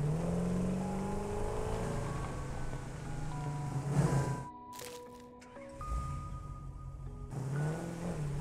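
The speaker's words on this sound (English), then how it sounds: "I like how much noise this thing makes, given that it's effectively an electric vehicle right now" A vehicle drives noisily in Satisfactory, a steady engine drone with shifting tonal whines and a brief drop partway through, moderately loud and heard alone.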